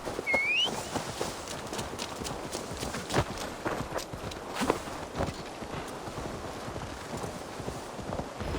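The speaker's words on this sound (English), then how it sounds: "Guess we'll go by horses." Horse hooves clip-clop at a steady walking pace in the video game Assassin's Creed Valhalla, close and continuous, with a short whistle near the start.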